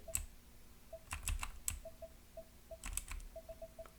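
Typing on a computer keyboard, quiet close-up clicks in irregular bursts and single taps, faint and alone with no speech.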